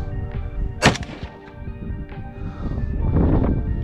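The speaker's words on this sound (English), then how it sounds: "shoot some targets at anywhere between 50 and 100 yards just to get a feel for what it's like to shoot an AK with a scope" A single close, sharp rifle shot cracks out from an AK fitted with a scope, fired at targets 50 to 100 yards away, followed by low rumbling outdoor noise.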